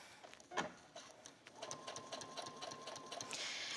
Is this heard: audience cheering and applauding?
no